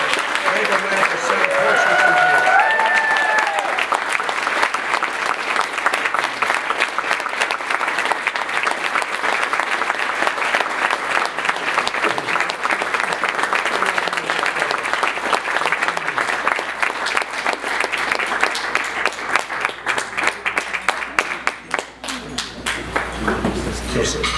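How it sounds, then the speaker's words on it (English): Steady applause from an audience at an awards ceremony, dense clapping that carries on for the whole stretch before thinning slightly near the end. "Let's hear it for Larry Fagan, construction supervisor."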